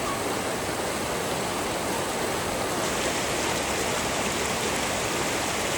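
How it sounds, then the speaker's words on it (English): Spring water in Port Vila, Vanuatu rushes in a loud, steady, close flow, a constant broadband wash that holds at the same level throughout. "water, spring water in Port Vila, Vanuatu"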